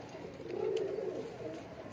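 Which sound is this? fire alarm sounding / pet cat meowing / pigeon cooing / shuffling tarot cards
pigeon cooing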